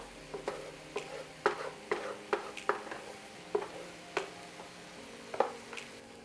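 Scrambled egg being stirred into cauliflower rice in a hot pan for keto fried rice: a run of irregular scraping knocks from the utensil over a faint, low sizzle, close and quiet.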